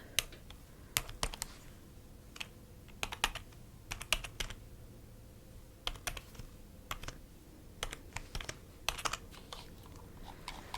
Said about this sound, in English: Type this one in.